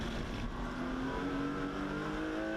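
A Porsche 924 race car at speed on the Snetterton circuit during a BRSCC Porsche Championship race, its engine note rising and falling at a distance, fairly faint, with no voices.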